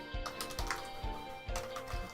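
Typing on a computer keyboard, close and fairly quiet, a run of soft, slightly uneven keystrokes with no talking.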